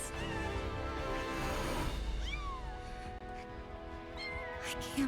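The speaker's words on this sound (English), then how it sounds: "Kittens?" Small kittens meowing in the game Final Fantasy 7 Rebirth, a few thin rising and falling mews over a steady low ambient bed, moderately close.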